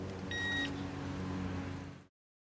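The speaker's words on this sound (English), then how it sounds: "any attempt to tamper with your bike will trigger it again" A XENA XX14 disc-lock alarm on a motorcycle gives a short, high-pitched electronic beep near the start over a low background hum, and the sound cuts out abruptly before the end.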